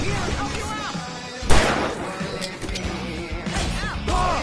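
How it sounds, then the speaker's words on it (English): Fireworks bursting in the video game Alan Wake Remastered, a sharp loud pop near the middle followed by crackling bursts, with game voices and other action sounds mixed in throughout. "I can set off more of the fireworks from here and help you out!"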